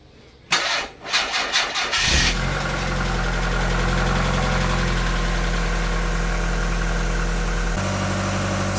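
A 1.8 litre car engine cranks with a few rapid turnover bursts, catches at about two seconds and settles into a steady, loud idle with a deep, even drone that shifts slightly in pitch near the end.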